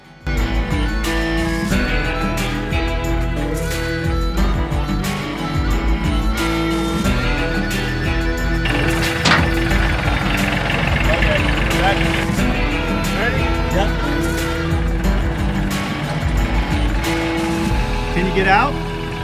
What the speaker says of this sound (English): Going for her first drive with the tractor pushing her.